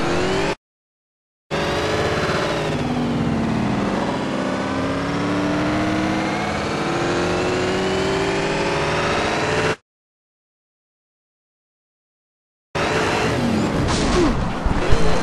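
A race car engine from the video game Need for Speed Shift, in an endurance race, drones loudly with rising revs and gear changes, broken by two abrupt silent gaps.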